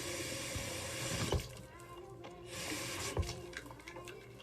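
Tap water runs steadily into an empty plastic spray bottle, a continuous splashing hiss with two brief louder gurgles partway through, close and without talk.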